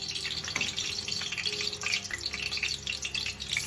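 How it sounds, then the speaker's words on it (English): Fish sizzling and crackling in hot oil in a home kitchen for Jamaican-style brown stew fish, a steady dense frying hiss with scattered pops, fairly close and continuous, no talking. "start my frying process for my brown stew fish"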